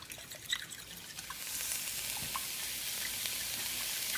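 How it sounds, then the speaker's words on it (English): Ham sizzling in a frying pan for an omelet, a soft steady hiss that rises after a moment and continues evenly, close and fairly quiet with no talking. "you can hear my ham starting to sizzle"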